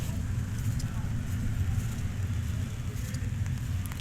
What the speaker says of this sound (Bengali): অনেক জোরে আসতেছে বৃষ্টি।